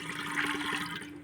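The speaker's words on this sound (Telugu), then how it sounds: "ఏం చేయాలంటే ఒక బౌల్ తీసుకొని అలా కొన్ని వాటర్ పోసుకోండి" Water poured into a bowl in a kitchen, a short soft trickling splash with a faint resonant ring, quiet and brief with no voices.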